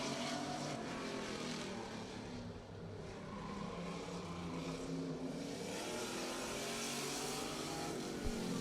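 A Camaro race car in qualifying drives through turns 3 and 4, its engine a steady, sustained roar heard from a distance, with no talking.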